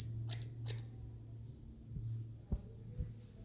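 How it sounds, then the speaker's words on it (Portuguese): Thinning scissors snipping hair during a taper fade haircut, a few quick close metallic snips near the start followed by softer clicks, with a low steady hum underneath. "Tesoura dentada, tá vendo? Dá mais leveza ao corte"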